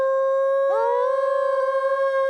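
A person imitates a wolf howl out in the wild: a single long, loud, steady tonal howl that rises into a sustained note with a slight wavering at the end, heard alone and close.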